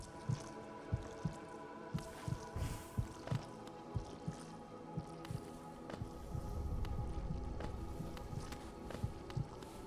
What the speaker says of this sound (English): There's definitely a heartbeat here.